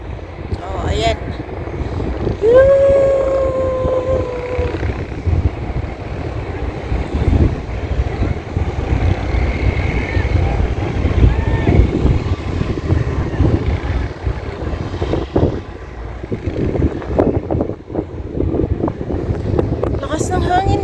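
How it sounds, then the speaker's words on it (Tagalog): Strong desert wind buffets the microphone in continuous roaring gusts, with a brief whistle-like tone early on and faint voices mixed in. "Lakas ng hangin guys."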